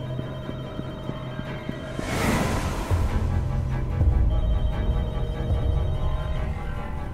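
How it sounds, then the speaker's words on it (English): Phone ringing in The Walking Dead: Michonne, a steady tone that keeps going while a louder whooshing burst and deeper rumbling game ambience swell in behind it. "你的电话响了"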